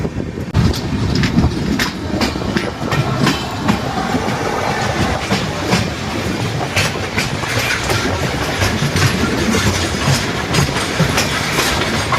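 Onboard the 13152 Jammu Tawi Express as it pulls away and rolls along the rails: loud, continuous rumbling with a steady clickety-clack of wheels over rail joints throughout, close and uninterrupted, no talking.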